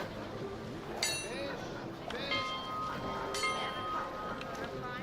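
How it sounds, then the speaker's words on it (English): A bell rings in a video game set around a riverside village with a ferryman, giving a few bright metallic strikes that ring out over a steady ambient bed, while someone talks over it. "Bell's to my right"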